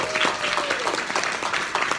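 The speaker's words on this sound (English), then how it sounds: "let's all give Carlynn a round of applause" Brief burst of audience applause at a macro social work summit keynote, a dense patter of many hands clapping at moderate distance, steady and even for about two seconds.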